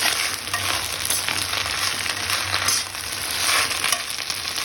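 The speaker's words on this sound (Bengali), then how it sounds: "এখন ওই কড়াইতে আমি সজনে পাতাগুলো তেলে নেব।" Drumstick (sajne) leaves fry in leftover oil in a wok used for onion, garlic and chilli, giving a loud, hissing sizzle that swells and eases slightly.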